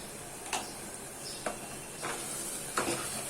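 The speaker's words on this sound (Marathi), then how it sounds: "आणि आता आपण हे मिक्स करून घेऊया" Chicken with turmeric and Kashmiri chili powder gets stirred in a pan, a faint hissing sizzle broken by four light spoon scrapes and taps spaced about a second apart.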